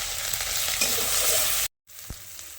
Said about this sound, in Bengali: কষায় নেব মশলাটা,